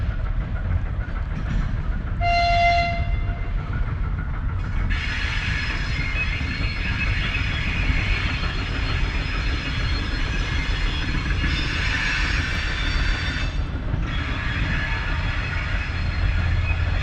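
Train rolling along an old railway line near Pripyat in the Chernobyl zone, a continuous rumbling rush with steady clatter and bright metallic squeal bursts, heard loud and close for the whole stretch.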